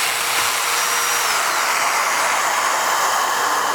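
A mortising tool cuts a mortise in wood for a garden gate, its motor whining loud and steady throughout with a slight drop in pitch partway, close up and alone.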